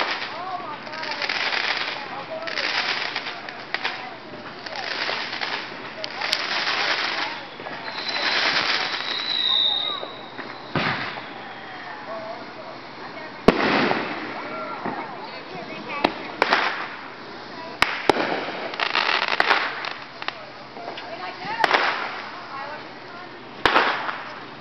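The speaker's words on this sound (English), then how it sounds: "All the neighbors are setting off fireworks." Fireworks popping and crackling at a distance, with repeated sharp bangs and bursts over steady rain, and occasional voices in the background.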